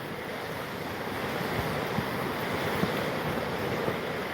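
Continuous, even roar of a flooded river's current, the kind of whitewater normally rafted, rushing loudly and steadily with no voices.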